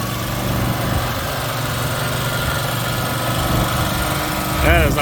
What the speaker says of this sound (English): This is homemade, lawnmower powered buggy.